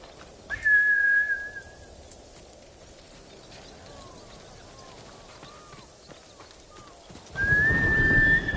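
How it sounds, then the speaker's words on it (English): In Ghost of Tsushima, two sharp whistles call a horse, with soft hoofbeats clopping against a steady patter of rain in between. "Horse!"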